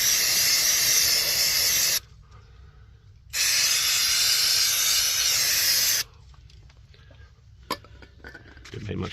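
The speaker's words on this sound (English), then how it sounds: "Just going to give this a bit of a clean up with some brake cleaner before I work on it all" Brake cleaner sprayed onto engine parts of a VW Passat B3 with a PD150 engine build, loud hissing aerosol bursts in two long sprays of about two seconds each, then quieter clinks and handling noises.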